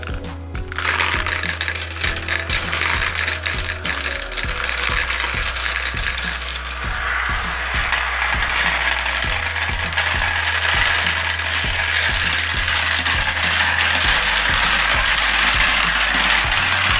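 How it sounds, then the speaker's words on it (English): Marbles clatter and roll down a marble race track in a season finale race, a dense continuous rattle of many small impacts with a steady low rumble, loud and busy throughout with no talking. "let's get this final race of 2019 started"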